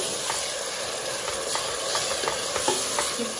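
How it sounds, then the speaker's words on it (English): Tomato passata is stirred into gram flour frying in a pan, a continuous close sizzle and hiss with soft scraping stirs and a few light knocks. "In goes the passata."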